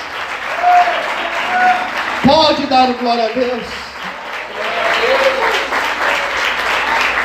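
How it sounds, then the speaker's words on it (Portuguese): Church congregation applauding at a Portuguese-language service, a burst of clapping and crowd noise running throughout beneath a preacher's voice and sustained music. "Você pode aplaudir Jesus?"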